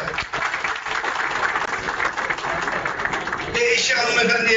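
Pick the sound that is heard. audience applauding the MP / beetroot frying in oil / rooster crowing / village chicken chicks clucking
audience applauding the MP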